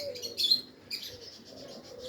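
Pigeons on a hot day, faint soft chirps and coos in short bursts over quiet background, with a light flutter.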